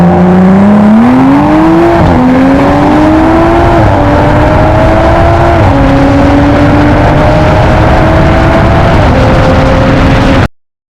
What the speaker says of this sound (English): the car finally makes a full pass down the track for the quarter mile